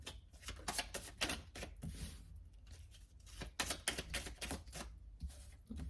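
Tarot cards shuffled and handled close up, a run of quick papery riffles and flicks in bursts with short pauses between them, fairly quiet.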